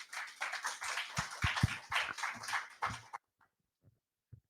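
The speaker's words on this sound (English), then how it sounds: "A round of applause for Dr. Rose, please." A small conference audience claps sparsely and unevenly for about three seconds. Distinct hand claps stand out, and the sound stops abruptly, leaving a few faint taps in near silence.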